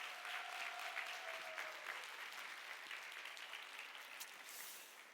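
Steady applause from a church youth-service congregation honouring their choir conductor, a dense wash of clapping at even loudness that slowly thins toward the end, with a faint held tone early on.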